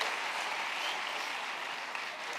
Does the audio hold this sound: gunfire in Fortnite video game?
no